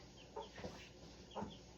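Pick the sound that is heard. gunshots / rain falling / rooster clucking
rooster clucking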